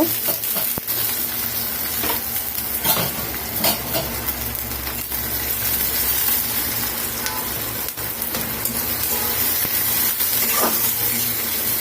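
Onions and leftover chillies sizzle steadily in hot oil in a pan, a loud, continuous hissing fry close by with occasional scraping stirs and no speech.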